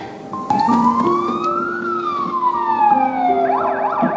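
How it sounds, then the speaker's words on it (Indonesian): A loud police siren wails, rising and falling slowly, then switches to a rapid warbling yelp near the end, close by. "Suara sirine polisi palsu yang Ju-kyung bunyikan"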